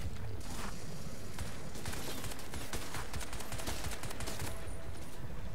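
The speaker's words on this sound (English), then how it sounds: "Who's shooting at me?" Gunfire in the video game Crysis 3, a continuous crackle of rapid shots at moderate distance, steady and unbroken throughout.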